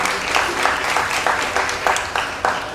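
Audience clapping at a stand-up comedy show, steady applause with slight pulsing swells, moderately loud and continuous.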